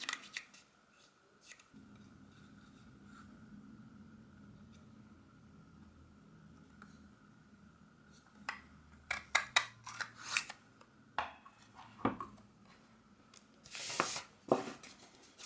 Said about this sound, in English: taking my snips, just going to snip up this free edge. And I'll punch this again in the punch.